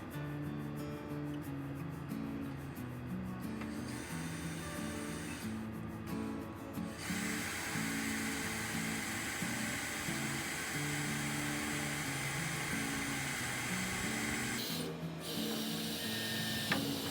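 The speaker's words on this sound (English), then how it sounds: "I'm going to pre-drill holes on the side like I started the other day." A power drill pre-drills holes in the wood of an old bed being rebuilt into a farmhouse bench, a steady whirring grind that carries on through the whole stretch with short pauses and a brief change in pitch, with no voices.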